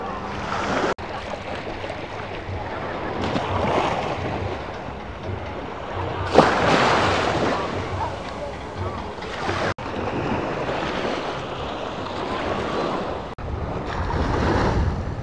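Sea waves washing onto the beach beneath Paignton Pier in Devon, a broad rolling surf noise swelling and easing, heavy wind buffeting on the microphone, with a person talking now and then over the water.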